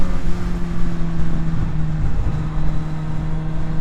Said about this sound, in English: Hopefully in the background you can hear a little bit of the noise that this awesome 4-cylinder machine makes.